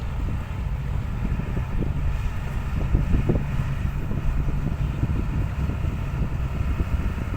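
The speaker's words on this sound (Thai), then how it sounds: "ลมแรงทำให้ฝุ่นคลุ้งครับ" A strong wind blows dust around heavy trucks, producing a steady low roaring rumble with mild gusty swells and no talking.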